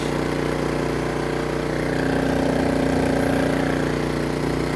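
A generator engine charging batteries runs steadily nearby, a constant droning hum with a rough, pulsing throb and no change in pace.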